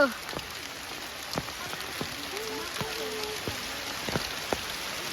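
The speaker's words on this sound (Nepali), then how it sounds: "कत्रो ठुलो पानी पर्यो" Rain pours steadily in a dense hiss at Batuli Pokhari in Chitwan, Nepal, with individual drops tapping and clicking on a hard surface and a voice faintly underneath.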